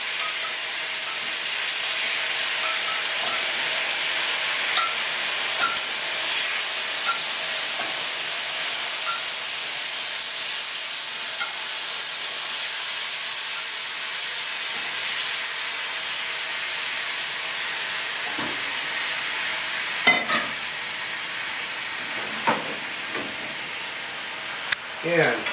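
Braising liquid poured into a hot pan of seared short ribs makes a continuous hissing, steamy sizzle that holds steady and close, then a few clinks and knocks of cookware near the end.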